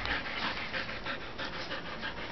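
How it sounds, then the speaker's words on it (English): A dog panting steadily and rapidly, close by and fairly loud, a happy eager pant while being given apple and chicken treats, with no talking over it. "and they get a happy froggy doggy panting from Merdie."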